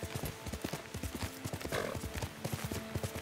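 Horse hooves clip-clop in a quick, regular galloping rhythm as a rider travels in the video game Ghost of Tsushima, with a brief whinny partway through, heard alone at moderate level.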